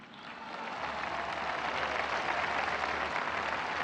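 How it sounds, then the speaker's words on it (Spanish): An audience claps during a national address by the Mexican president, a broad wash of applause that swells gradually and holds steady, sounding somewhat distant. "un aplauso"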